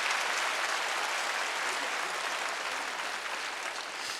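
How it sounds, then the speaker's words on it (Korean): A church congregation at a Wednesday worship service claps together in a sustained, even burst of applause, many hands at once, heard alone without talk. "박수 좀 세게 쳐요"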